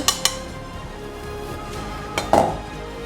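Chicken wings tossed around in a bowl before air frying, giving a few sharp clinks and knocks against the bowl at the start and end with quieter rustling in between, close up and with no talking.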